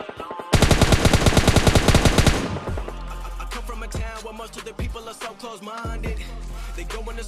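Rapid automatic gunfire in the video game PUBG Mobile Lite, a loud, dense burst of closely spaced shots for about two seconds, followed by scattered single shots, footsteps and game effects.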